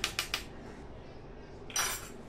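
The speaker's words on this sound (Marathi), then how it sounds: "परत असं चमच्याने छान एकत्र करायचं, परत ठेचायचं" A metal spoon mashes and works roasted eggplant for Khandesh-style bharit, giving three quick clinks against the bowl and then a short scraping stir, close and alone.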